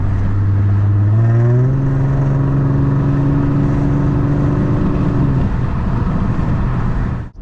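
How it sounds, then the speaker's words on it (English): A Lexus IS350 engine revs hard up to the rev limiter, climbing quickly in pitch, then holding a loud, steady, bouncing drone against the limiter for several seconds before dropping off, with no speech. "the rev limiter is actually insane"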